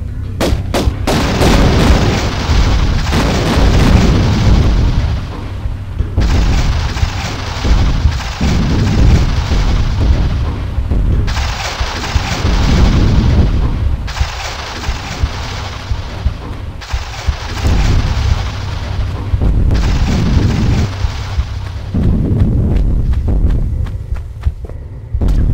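Repeated gunshots and booming blasts in Tomb Raider 1 (1996) on the Great Pyramid level while firing at a target, loud and continuous with heavy low rumble and steady repeated shots, no talking.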